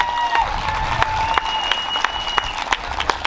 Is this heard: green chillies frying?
no